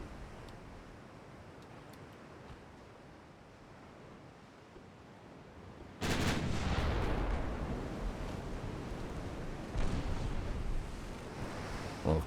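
Warship secondary and main guns firing in a naval combat game set around 1908, a dense loud barrage that erupts suddenly after a quiet stretch of sea ambience and rumbles on with repeated booms.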